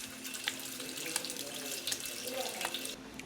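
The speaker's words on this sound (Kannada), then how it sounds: "ಓ, ಇದು ಹೀಗೆ ಹಿಂದೆ ತಳ್ಳಿದ್ರೆ ನೀರು ಬರುತ್ತೆ." Water runs steadily from a vintage-style hand-wash tap at a wash basin, pushed back to open, a close continuous splashing stream with faint clinks, cutting off sharply at the end.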